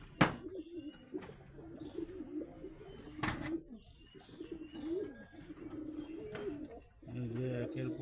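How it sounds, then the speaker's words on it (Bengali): Pigeons in a loft, high-flyer breeds such as Giribaz, Shahjahanpuri and Teddy, coo in low repeated rolling calls, close by, with a couple of sharp knocks and soft background sounds. "এই যে একের পর এক পায়রা"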